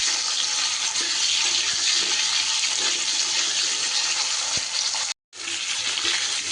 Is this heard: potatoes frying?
yes